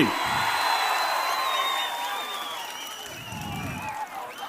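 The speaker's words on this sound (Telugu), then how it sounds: "మీరు అవుననిపిస్తే అవునంటే గట్టిగా చప్పట్లు కొట్టి చెప్పండి అవును అని" Crowd at a Telugu Desam Party political rally bursts into loud, sustained applause and cheering, the clapping swelling near the start and again toward the end.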